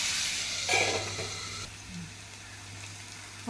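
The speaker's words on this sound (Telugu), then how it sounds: "ఆనియన్స్ బాగా బ్రౌన్ కలర్ వచ్చే వరకు వేయించుకోవాలి" Sliced onions frying in a pan for a gongura egg curry, a steady hissing sizzle that swells briefly as they are stirred, then settles into a softer crackle, close and alone.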